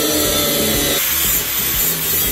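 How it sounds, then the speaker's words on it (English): A saw or power cutting tool rasps steadily through metal, trimming excess from a fabricated turbo mount bracket, giving a loud, continuous, close grinding drone with no talk. "So the first thing I'm gonna do is cut off some excess to give us some clearance"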